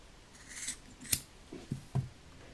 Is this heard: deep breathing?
no